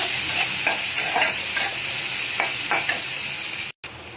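Chopped onions frying in spiced oil for egg curry, a loud continuous sizzle with rhythmic scraping strokes of a spoon stirring them, close and without talk, then a sudden short gap near the end.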